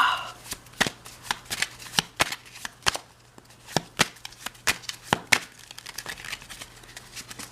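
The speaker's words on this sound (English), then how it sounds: "Let's do a little shuffle." Tarot cards are shuffled in a run of crisp riffling bursts and soft slaps, close up and irregular, with a quiet gap partway through.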